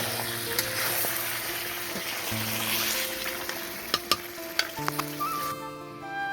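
Chicken biryani masala sautéed in a pot over a clay stove, with a continuous sizzle and scraping stirs and a few sharp ladle clacks toward the end.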